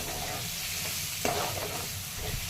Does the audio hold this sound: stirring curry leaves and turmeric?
yes